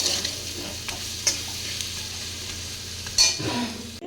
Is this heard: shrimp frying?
yes